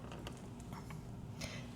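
A heavy sliding glass door in a newly built model home rolls open with a low grinding creak and a few faint clicks, steady and close, with no talking.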